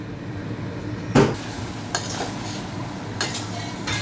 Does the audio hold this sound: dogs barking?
no